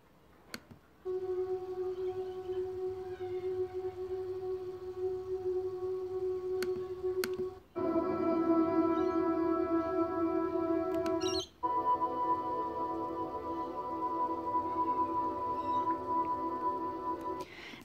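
Slow, time-stretched rendering of an original composition, sustained smeared tones and drones that shift in two abrupt sections, steady and moderately loud throughout with no voices.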